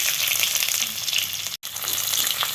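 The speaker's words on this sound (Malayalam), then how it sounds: "ചെറുതായി ഒന്ന് ചെറിയ ഉള്ളി മുക്കട്ടെ" Small onions frying in oil in a clay pot make a loud, close, continuous crackling sizzle, broken by one very short dropout.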